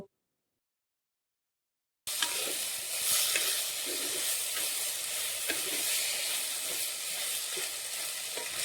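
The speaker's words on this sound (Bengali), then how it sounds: "হাঁড়িতে কিছুটা সরিষার তেল দিয়ে তাতে কেটে রাখা সবজি এবং ডালগুলিকে দিয়ে দিলাম।" Lentils and chopped vegetables frying in mustard oil inside a clay pot, with an abrupt start after a silent gap into a loud, even hiss and sizzle punctuated by light stirring scrapes.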